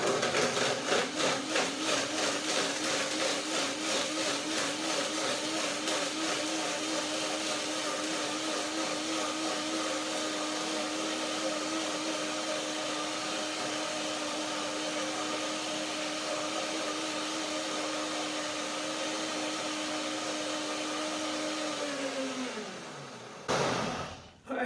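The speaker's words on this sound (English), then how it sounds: "Just tiny, just to get the blender working." A countertop blender whirs at a steady pitch while blending fruit with a little water, loud and continuous for most of the stretch before winding down abruptly at the end.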